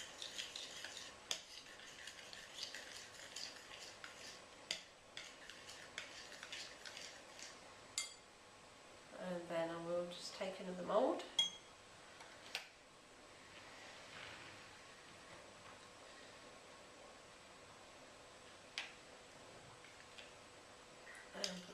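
Raisins and sultanas being stirred into melted chocolate, faint soft scraping and occasional light taps from a utensil against the bowl in a quiet room, with a brief murmur of voice partway through.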